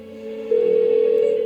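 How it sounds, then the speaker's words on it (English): A steady electronic calling tone rings out while a phone call goes unanswered in the video game Persona 4 Golden. The tone is held and unbroken, and it grows slightly louder partway through. "Why won't she pick up the phone?"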